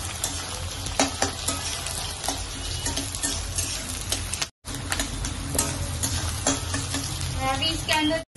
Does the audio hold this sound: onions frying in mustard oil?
yes